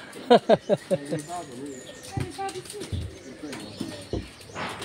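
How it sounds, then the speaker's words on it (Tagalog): Pigeons at a butterfly sanctuary in Bohol, Philippines, with a burst of wing flaps at the start followed by soft cooing and rustling, close by, with people talking nearby. "Ah, yung mga kalapati."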